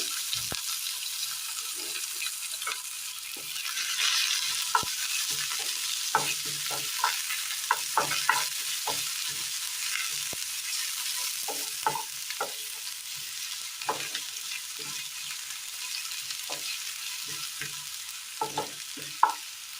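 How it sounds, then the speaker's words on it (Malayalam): Mustard seeds, shallots and garlic frying in hot oil in a pan: continuous bright sizzle with scattered crackles and pops. "ചൂടായ എണ്ണയിലേക്ക് കടുകിട്ട് കൊടുക്കുക ചെറിയുള്ളി വെളുത്തുള്ളി"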